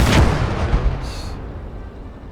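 A Sherman tank cannon fires once in the Call to Arms Gate of Hell video game, a loud close boom with a rumbling tail that fades over about two seconds.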